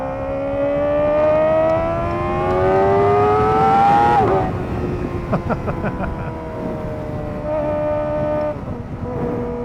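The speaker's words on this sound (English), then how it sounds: "It's probably one of the best sounding motorcycles out there on the market" A 2024 Kawasaki Ninja ZX-4RR engine revs up in a rising whine, drops sharply, then settles into a steady growling idle with brief throttle blips, loud and close.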